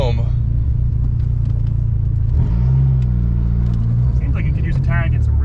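A clapped-out Dodge SRT-4 rumbles loudly from inside the cabin as it accelerates, a deep steady engine drone with a rising pull midway, while people talk over it.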